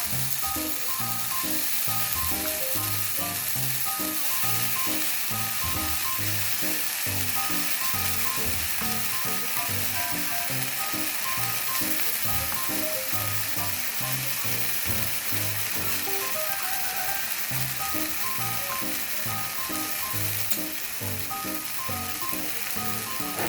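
Boiled Maggi noodles frying in a pan with lemon, garlic and coriander, a loud steady sizzle with rhythmic stirring scrapes running continuously, no voices.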